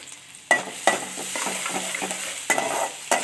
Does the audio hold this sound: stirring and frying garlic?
yes